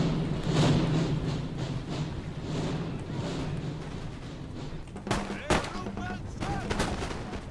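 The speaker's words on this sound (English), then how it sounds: "These guys I can get, they're being shot at by everybody." Musket volleys in the Napoleon: Total War video game, a dense rolling crackle of gunfire with scattered sharper shots near the end, mixed under a steady battle din while someone talks over it.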